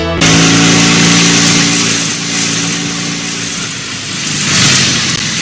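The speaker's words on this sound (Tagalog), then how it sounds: "Hinay lang kunos pagpadagan sa motor dong." A motorcycle engine runs steadily while riding, a loud, continuous mid-pitched drone that swells and eases slightly as it goes, with no talk over it.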